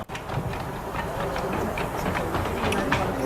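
A small train rolls along the rails in the Lake District, a steady rumbling roll with faint clicking and rattling running continuously throughout at moderate distance.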